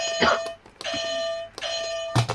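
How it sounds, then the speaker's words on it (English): A wrestling ring bell rings out at the start of a match, three loud, sustained metallic rings separated by short pauses, with crowd noise in the background. "Ring the bell."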